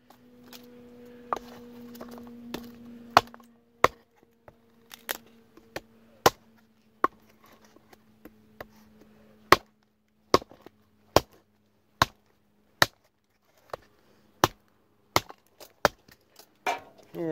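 A J.Adams survival knife chops and splits wood in a steady series of sharp, dry strikes about one per second, each crack crisp and close, with a low hum underneath early on.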